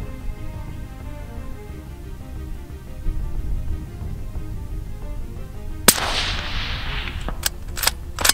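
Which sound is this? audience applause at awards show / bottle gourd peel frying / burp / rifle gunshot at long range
rifle gunshot at long range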